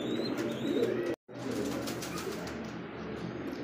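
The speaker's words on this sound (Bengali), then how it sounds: "একজোড়া ব্ল্যাকের মধ্যে বোম্বাই কবুতর দেখেন, আর এটা হচ্ছে ইন্ডিয়ান বোম্বাই" Indian Bombay pigeons coo in low, throaty, repeated calls at close range, broken by a short gap of silence. A faint wing flutter is audible.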